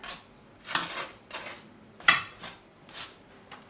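Metal baking tray handled at a hot oven while making sucuk pide, giving several sharp clanks and scrapes of metal spaced through the moment, close and fairly loud, with no talk.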